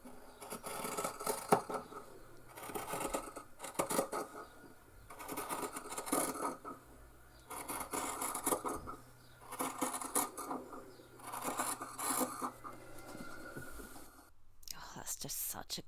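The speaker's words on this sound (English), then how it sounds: "I'm going to cut out my piece of my fabric" Scissors cutting fabric for a simple sewn book cover, with a repeating pattern of crisp close snipping and shearing in several bursts, and quiet whispery sounds between the cuts.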